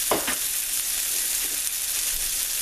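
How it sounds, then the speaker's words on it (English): Chopped onion and shallot sauté in a hot pan with a continuous bright sizzle, punctuated near the start by a couple of stirring scrapes and a few more soft stirs later on. "Now we're going to add the onion and the shallot, and we're going to continue sauteing that good stuff"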